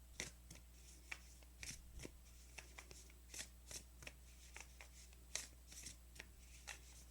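Oracle cards of thick, sharp-edged cardstock being shuffled by hand, a series of soft quick riffling flicks in an irregular rhythm, close and quiet over a low steady hum.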